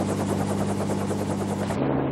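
A helicopter flies with its rotor beating in a rapid, steady chop over a deep engine drone, loud and close throughout, ending with a slight drop in tone and no talking.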